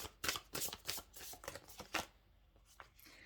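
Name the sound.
shuffling oracle energy cards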